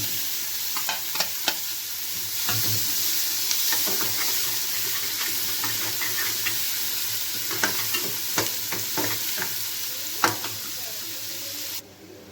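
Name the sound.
onions frying in ghee for kabsa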